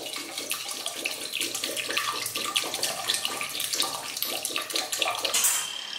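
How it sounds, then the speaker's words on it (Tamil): Water pours steadily into a pot of crab soup, a continuous splashing stream heard close and alone for several seconds. "இப்போ தேவையான அளவு தண்ணி சேர்த்துக்கலாம்."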